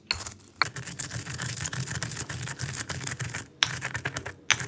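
Roasted spices for green curry paste being roughly crushed by hand, giving a steady run of scraping, grinding strokes with a few brief pauses and no talk.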